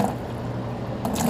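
Water poured from a container into a 5-pound mixing bucket for Hyperform, a close, steady watery trickle and splash lasting about a second with a slight surge near the end.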